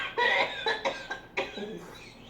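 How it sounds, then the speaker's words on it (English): A person coughs after smoking, a quick series of about five close, harsh, dry coughs that fade over roughly two seconds. "I think once I cough, I'm okay."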